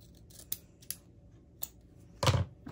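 Scissors trimming folded craft material for a Christmas movie kit, several crisp snips spaced apart, close and quiet, ending with a longer louder cut.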